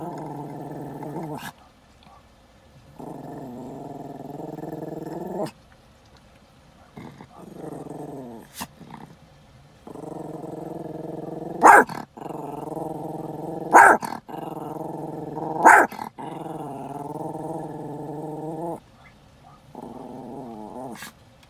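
Two dogs growl close up in long rumbling stretches, with a few sharp, louder barks or snaps breaking through the middle, then a final short growl after a pause.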